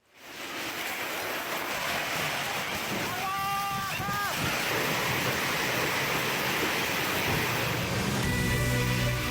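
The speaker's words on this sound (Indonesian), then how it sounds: "Rekaman video amatir ini merekam saat angin puting beliung menerjang sejumlah desa di Kecamatan Leces, Kabupaten Probolinggo, Jawa Timur" Tornado winds sweeping through villages in Leces, Probolinggo, East Java, a dense continuous roar of rushing air and buffeting against the microphone, with brief tonal cries or voices rising partway through.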